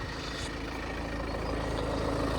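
A Mini Cooper SD's 2-litre diesel idling under an open bonnet, a steady close chugging rumble with an even, unbroken rhythm.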